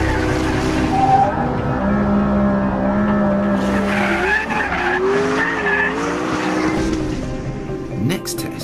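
A McLaren P1 brakes hard on a road test, with loud, sustained tire squeal and skidding over engine noise, the screech wavering in pitch before easing off near the end.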